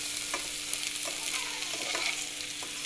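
Halved boiled eggs are stirred into masala in a pan, a constant bright sizzle punctuated by about five soft scraping strokes of the spoon.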